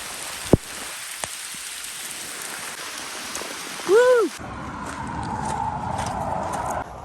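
Steady rain hisses throughout a bike trip through Asturias, a constant wash of drops on surfaces with a couple of sharp taps early on and a brief tonal whine near the middle.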